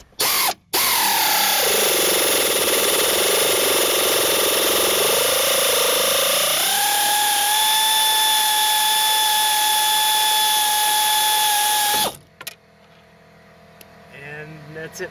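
A 90-degree power ratchet runs almost continuously up close as it backs out rear strut bolts, a loud whirring whine that climbs in pitch midway and then cuts off, followed by quiet rustling.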